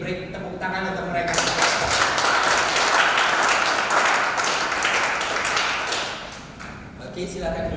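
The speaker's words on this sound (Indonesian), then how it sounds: "Jadi break tepuk tangan untuk mereka." An audience at a dentistry and yoga talk breaks into sustained, dense applause that swells and holds for several seconds before fading, with speech at the start and end.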